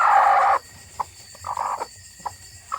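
A Sweater breed chicken clucking close by in short, separate bursts with brief quiet gaps between them.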